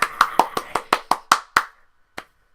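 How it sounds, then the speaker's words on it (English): A pair of hands claps about eight times in a quick, slightly uneven run, then adds one last clap after a short pause. The claps are close, crisp and sharp, with no voices. "I shouldn't be clapping, really, should I?"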